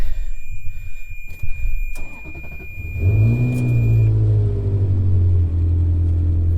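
A Ferrari 360 engine cranks briefly and then fires up, settling into a loud, steady low idle with a revving rise as it catches, heard close by.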